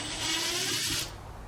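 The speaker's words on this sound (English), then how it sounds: "This is a brushless motor on this cordless drill." A Makita cordless drill with a brushless motor runs briefly with a high whir, then spins down and stops after about a second.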